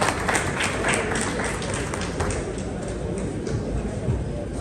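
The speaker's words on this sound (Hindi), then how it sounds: "अच्छा, तालियां जरा कम रही" Sustained applause from a seminar audience at a traffic awareness event in Pakistan, a dense steady wash of many hands clapping at even loudness throughout, with a voice faintly mixed in.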